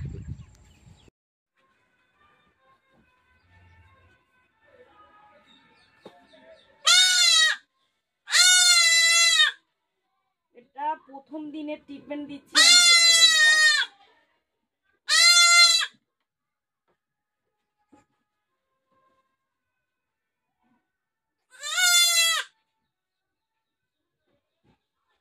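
A kid goat sick with pneumonia bleats during an injection treatment, giving about five loud, close, separate cries spread over the clip, with someone speaking quietly between them.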